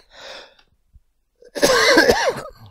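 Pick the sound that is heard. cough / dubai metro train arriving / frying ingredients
cough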